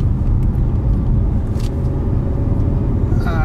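A car squeezes down narrow lanes between lorries, its cabin filled with a steady, heavy low rumble of engine and road noise that stays constant throughout.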